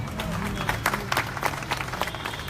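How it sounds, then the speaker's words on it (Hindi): Crowd applause at a local political gathering in Delhi's Subhash Nagar Ward 9, a steady wash of many hands clapping with irregular louder bursts, fairly close and sustained. "जोरदार तालियां जी।"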